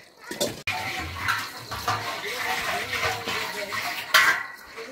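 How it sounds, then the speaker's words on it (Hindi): Dishes, pots and utensils being washed by hand outdoors in a Garhwal village, with steady clinks of metal and splashing water running throughout at close range. "भाभी जी बर्तन मांझ रही हैं"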